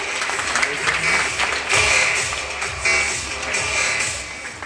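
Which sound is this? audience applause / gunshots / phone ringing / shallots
audience applause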